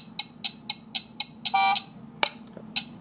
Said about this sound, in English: I'll just give you guys a little demonstration of what the buzzer sounds like.